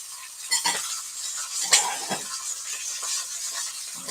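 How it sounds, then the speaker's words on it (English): Rabbit pieces searing in a pan, a soft, steady sizzle with a few sharp clinks and scrapes of a utensil as pieces are flipped, fairly quiet and close with no voices. "Hopefully get a little bit of sear on the other side too"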